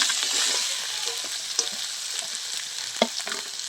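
Bottle gourd peel frying over low heat with garlic and green chilli, a steady close sizzle with light stirring clicks and a couple of sharper scrapes, no voices.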